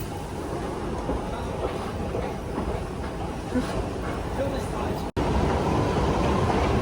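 A London Underground Waterloo & City line train runs with a continuous loud rumble and rattling clatter from the carriages, a brief dropout near the end, and faint background babble under the noise.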